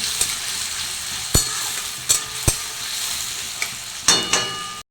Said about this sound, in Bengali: ওটা দিয়ে দিচ্ছি সবগুলো নাড়াচাড়া করছি